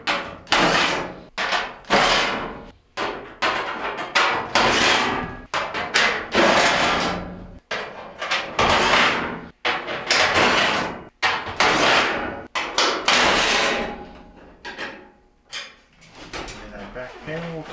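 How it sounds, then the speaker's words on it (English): Screws come out of the back panel of a Whirlpool dryer under repair for no heat, a run of close, irregular whirring bursts from a power driver separated by brief pauses and clunks of metal. "Alright, so we're going to go ahead and start removing our screws."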